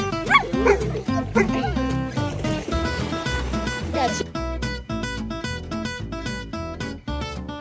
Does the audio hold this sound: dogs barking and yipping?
yes